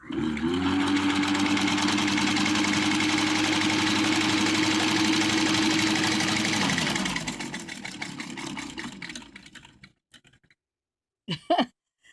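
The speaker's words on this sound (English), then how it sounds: "the more you press on it, the more pressure you put on it, the faster it goes" A post-war domestic rotary sewing machine running fast, a loud steady whirring drone that holds for about seven seconds, then winds down and stops, followed by a couple of brief handling sounds.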